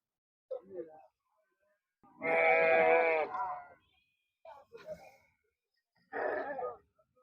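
Sheep bleat at the Gudur sheep market, with a long, loud bleat near the middle and a shorter one at the end, separated by quieter animal and crowd noises.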